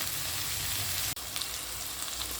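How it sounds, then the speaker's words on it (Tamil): Potato pieces for a wedding-style potato pepper fry frying in a pan over a medium flame, a steady close, dense sizzle that runs throughout with one very brief break near the middle. "இது நம்ம ஒரு மீடியம் ஃப்ளேம்லேயே வச்சு ஒரு ரெண்டுலேருந்து மூணு நிமிஷம் வரைக்கும் நல்லா ஃப்ரை பண்ணி எடுத்துக்கலாம்"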